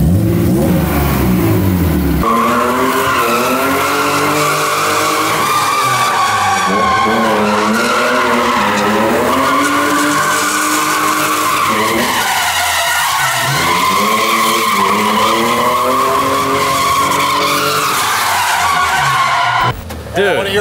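A BMW with an equal length mid pipe and Borla exhaust revs hard and loud up close, its engine note climbing and falling in repeated sweeping pulls for about twenty seconds, with voices faintly underneath.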